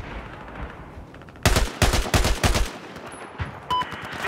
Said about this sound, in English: RPK is a beast in the right hand.